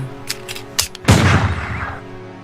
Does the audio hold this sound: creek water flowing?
no